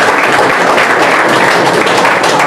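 An audience applauding to welcome a guest, a dense, steady roar of clapping from many hands that stays loud throughout.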